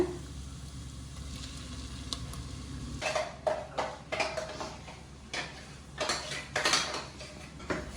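Ground masala paste is stirred and sautéed in a pan for an empty salna gravy, with metal utensil scrapes and clinks over a low steady sizzle, growing busier and louder partway through.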